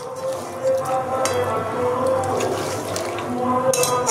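A little water is poured into chicken frying in a pan while a Bengali-style chicken Lahori is cooked, a steady watery splash and hiss running through the whole stretch with no talking.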